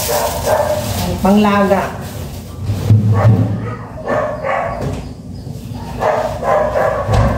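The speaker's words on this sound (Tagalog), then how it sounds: "Maingay ang aso." Dog barking in a Filipino household, several loud sharp barks and yips close by, heard alongside a person talking.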